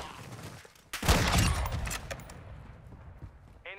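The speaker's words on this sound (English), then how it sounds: "Grenade out." In a video game, a sudden loud blast bursts out after a quiet start, then rumbles and crackles as scattered gunfire-like pops fade away over a few seconds.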